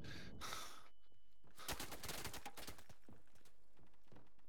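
Gunfire in the World War II shooter Day of Infamy: a burst of rapid automatic fire, then scattered cracking shots and bursts at moderate distance, fairly quiet overall.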